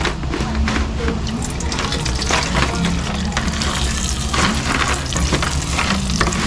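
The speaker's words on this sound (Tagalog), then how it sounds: "start na natin second fry ang ating pork belly" Pork belly sizzling in hot oil during its second fry, a steady dense crackle and hiss that runs continuously and fairly loud, with occasional stirring clatter and no talk.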